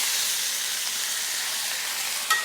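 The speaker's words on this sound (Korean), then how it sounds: "이 웍에다가 식용유를 살짝 두릅니다. 그리고 얘를 볶아줍니다." Lotus root stir-fries in a lightly oiled wok, giving a loud, continuous hissing sizzle up close, with a brief clink or scrape near the end.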